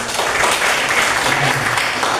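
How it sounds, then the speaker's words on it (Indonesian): In a school classroom during a Hindu religion lesson, students clap for a presenting group, a brief burst of loud, busy applause lasting a couple of seconds. "Silakan tepuk tangan dulu anak."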